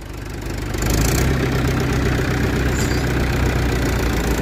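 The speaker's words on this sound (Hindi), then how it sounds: "बेहिसाब ट्रैक्टर जोर मार रहा महेंद्रा" A Mahindra 575 tractor engine labors heavily while pulling a machine out of a pipeline trench, a loud, steady, low knocking drone that swells within the first second and holds, with no talk.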